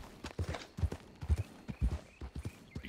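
Horse hooves clip-clopping during a relaxed ride in Red Dead Redemption 2 Online, a steady rhythmic walking gait of close, distinct thuds with no talk over it.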